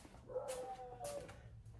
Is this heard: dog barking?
yes